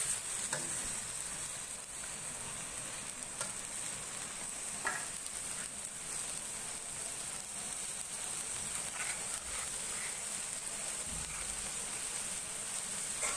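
Chopped tomatoes and onions frying in a pan for an egg curry, a steady close sizzle and hiss running throughout with occasional soft stirring scrapes and clicks.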